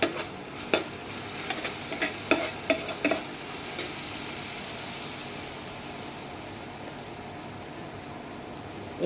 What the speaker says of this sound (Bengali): সয়া সস 1 চামচ দিয়ে আবার ভালো করে নেড়ে চেড়ে নেবো।